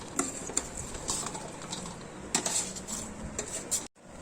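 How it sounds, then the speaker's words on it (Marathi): Raw mango pieces stirred into homemade pickle spice masala in a bowl, with repeated close scraping and clinking of a spoon against the vessel and a steady low rustle, ending in a brief silence. "ह्या ज्या आपल्या लोणच्याच्या कैऱ्या आहेत ह्या आपण ह्याच्यामध्ये टाकणार आहे टाकताना व्यवस्थित असं आपण ह्याला हलवून घेऊया"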